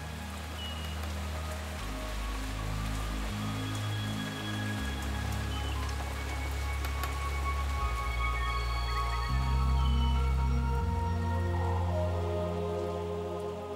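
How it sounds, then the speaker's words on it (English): Steady rain falls on a tropical island in November, a dense continuous hiss of drops on surfaces with a low droning bed underneath, holding at an even moderate level throughout with no voices. "In November, when Mount Otemanu blocks the clouds, it rains day and night."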